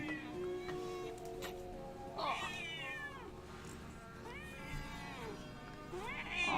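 A pet cat meows several times indoors, with drawn-out rising and falling calls spaced across the moment, fairly close to the microphone over a quiet room hum.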